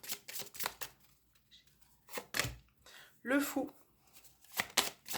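Tarot cards being shuffled and drawn, giving several short papery riffles and flicks that come in bursts, with a French-speaking voice talking briefly in between.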